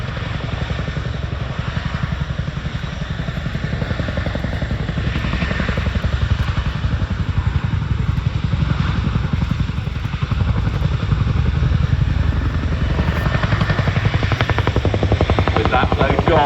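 A Chinook twin-rotor helicopter hovers at an RAF Cosford flying display while dropping an underslung load, its heavy rotor chop thudding loud and continuous throughout, building slightly stronger toward the end.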